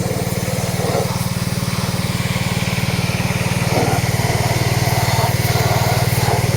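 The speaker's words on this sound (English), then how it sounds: "I'm pressure washing the parts." A gas pressure washer runs steadily while engine parts are washed during a 5.9 Cummins High Output engine swap into a 2004 Dodge Ram 3500 4x4. The engine drones loudly and close with an even, rapid pulse throughout.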